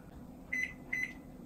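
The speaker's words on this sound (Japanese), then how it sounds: "これを電子レンジで温めます" A microwave oven heating rice gives two short electronic beeps about half a second apart over a quiet background hum.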